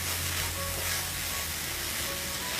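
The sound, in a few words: stirring garam masala and fennel powder in a pan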